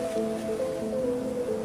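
A steady loud roar of large sea waves and west wind on the coast at Merak, Pandeglang, with faint sustained tonal voices drifting over the constant wash.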